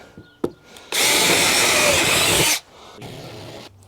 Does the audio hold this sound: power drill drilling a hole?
yes